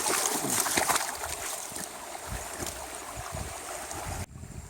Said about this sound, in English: I'm having to walk down here in the creek